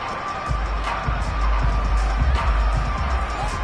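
A home crowd roars in a Madden football game, a broad, steady wall of cheering over a low rumble that holds at an even level throughout.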